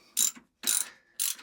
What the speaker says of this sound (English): tighten up the bolt to hold it all together